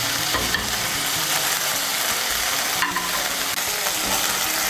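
Grated coconut being stirred into hot oil, a loud, dense continuous sizzle with steady scraping of the spoon throughout; no talking.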